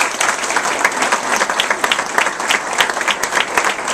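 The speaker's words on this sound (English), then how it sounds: "we want to give you another big round of applause" A big round of applause fills a political event hall with dense, continuous clapping from a large audience. It stays steady and loud throughout, with no one speaking over it.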